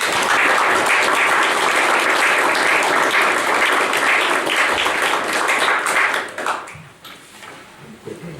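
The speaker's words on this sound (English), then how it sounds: "Let's give all these folks a round of applause" Loud, sustained audience applause at a county fiscal court school board recognition, steady dense clapping that fades out near the end, leaving quiet room tone.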